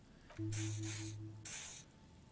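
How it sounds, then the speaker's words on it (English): Odd-smelling spray dousing someone in the game Disco Elysium, two hissing aerosol bursts, the first longer and broken into pulses, the second shorter, close and clear over a quiet low hum. "He douses you with the odd-smelling spray"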